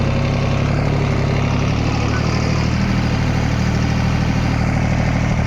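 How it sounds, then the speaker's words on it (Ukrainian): A Dongfeng 244 tractor engine runs steadily and loudly up close while pulling a homemade plow through black soil, a continuous low rumbling drone with no breaks. "Тракторець тільки мурчить."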